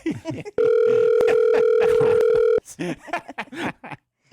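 A phone rings with a sustained electronic tone for about two seconds, with people talking before and after it.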